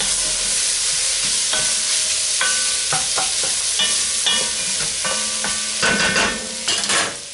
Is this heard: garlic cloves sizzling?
yes